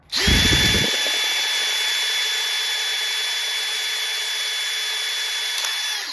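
A power drill whines at a steady high pitch for several seconds after a short grinding start, then winds down at the end, drilling into a shredded screw head.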